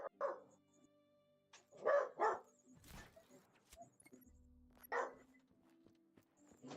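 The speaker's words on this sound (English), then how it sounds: "Whose dog is barking in the background?" A dog barks a few times in the background during an online multiplayer racing session, with sharp separate yaps spread across the clip and little talk over them.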